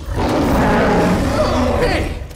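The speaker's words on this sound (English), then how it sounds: "He's introduced as a man-eating beast with this massive roar." A massive, Chewbacca-like roar from a man-eating beast in a Star Wars film: one loud, sustained growling roar that fills the full clip and carries a rough, rumbling tone from start to finish.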